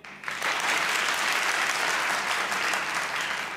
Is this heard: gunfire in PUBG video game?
no